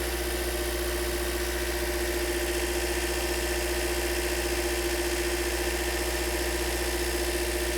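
A 2008–2013 Toyota Corolla engine idling steadily, a constant low droning hum with no change in pitch or rhythm throughout, close and even.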